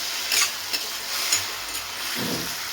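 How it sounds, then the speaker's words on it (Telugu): Okra and curry leaves fry in hot oil in a pan, giving a steady, close sizzle with faint stirring clinks and scrapes. "కడుక్కొని బాగా ఆయిల్లో వాడినిద్దాం బెండకాయలని."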